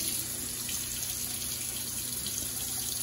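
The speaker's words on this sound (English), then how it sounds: "just turn on your cold faucet, your cold water" Cold water runs steadily from a faucet, a continuous even hiss of flow filling a sink, heard alone and close with no talking.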